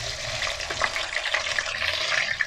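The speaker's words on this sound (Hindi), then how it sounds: "तकरीबन 2 स्पून आपने अदरक लहसुन का पेस्ट डालना है और इसे आपने फ्राई करना है।" Ginger garlic paste frying in oil in a kadai over a fairly high flame, a steady close sizzle and crackle with faint stirring scrapes, loud and continuous.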